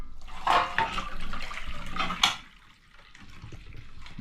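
Hot soaking water is strained off chopped banana blossom in a kitchen. A splashy pour runs for about two seconds, then fades into a quieter, thin trickle.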